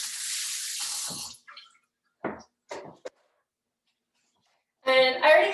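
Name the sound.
washing hands at sink tap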